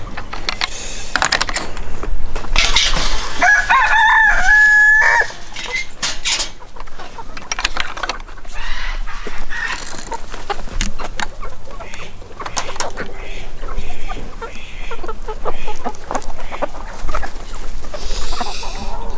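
A flock of poultry clucks and calls at close range over steady farmyard background noise, with occasional brief rustles and clicks.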